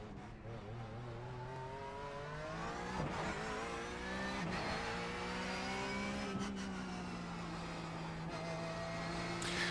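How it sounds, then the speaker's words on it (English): A Porsche GT3 Cup car lapping the bumpy Sebring circuit in a racing simulator on cold tires, its engine revving up and down through gear changes, loud and steady, with no voices. "So I'm driving the Porsche GT3 Cup car around here, Sebring"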